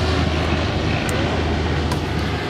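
A propeller airplane, a Catalina flying boat at an airshow, drones steadily overhead, its engine hum loud and continuous with no break.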